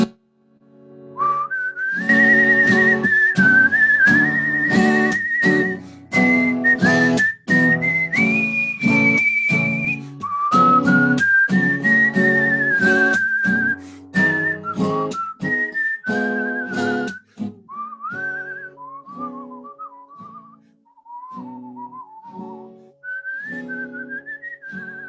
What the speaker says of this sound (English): I'm gonna whistle too